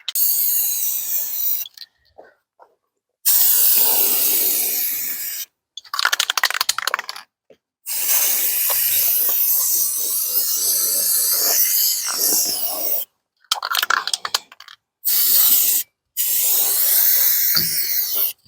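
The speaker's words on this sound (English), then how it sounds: "You're like the Picasso of spray paint" Aerosol spray paint hissing onto a 1970s vintage camper RV during restoration, in long steady bursts broken by short pauses and quick rattling taps, loud and close.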